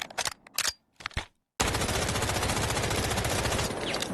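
Machine gun fire in the shooter game Delta Force, a few short bursts with brief gaps, then a long loud sustained stream of rapid shots.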